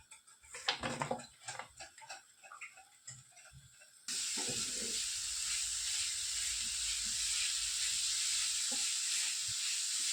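Grated coconut and jaggery roast in a spoonful of ghee, starting with a few stirring clicks and scrapes, then settling into a soft, steady sizzling hiss that carries on without talk.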